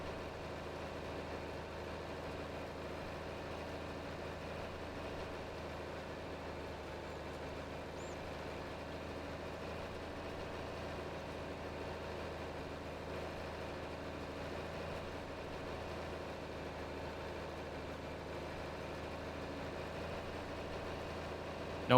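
A tractor engine in Farming Simulator 22 runs at a steady, low idle-like drone while working a grass field, faint and unbroken throughout with no voices.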